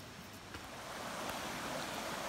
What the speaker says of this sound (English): Hear the water getting louder again.